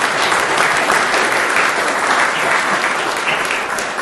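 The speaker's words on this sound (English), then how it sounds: "I think that deserves a round of applause." Audience at a panel talk marking the 50th anniversary of Concorde G-BBDG's first flight gives loud, sustained applause, a dense, even roar of many hands clapping that fades slightly toward the end.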